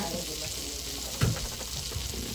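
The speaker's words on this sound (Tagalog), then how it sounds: "Tunawin natin yung butter. Ito yung konting mantika." Butter and a little oil melt in a pan for a sweet chili spaghetti, making a low, soft sizzle with one brief clatter in the middle, quiet and without talk.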